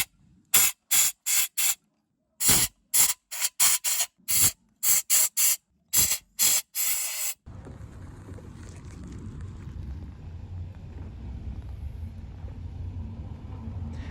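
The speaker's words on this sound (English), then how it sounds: "use compressed air to blow out the dirt which gets stuck around the spark plugs" Compressed air blows dirt out of the spark plug wells of a Volvo XC60/XC90 engine in a string of sharp loud hissing bursts, each short and close, followed by a low rumbling background.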